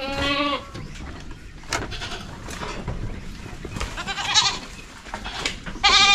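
Goats on a farm, just let out of their pen and meeting others outside, give several sharp bleats, some close and some further off, over a steady rustling background.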